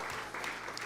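Congregation applauding during a church service, steady broadband clapping sustained through the whole moment at moderate distance, with no voices standing out.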